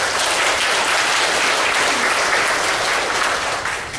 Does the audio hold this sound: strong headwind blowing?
no